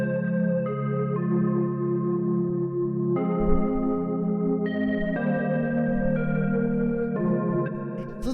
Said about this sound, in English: the first sound that we got going on here are these chords, which sound like this.